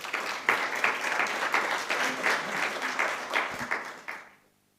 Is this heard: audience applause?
yes